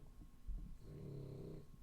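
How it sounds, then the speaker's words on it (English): A pet snores softly in the background with a low, rumbling breath, faint and steady and heard alone without talk. "cranking it up in the background there, snoring away"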